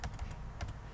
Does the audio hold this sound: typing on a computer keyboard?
yes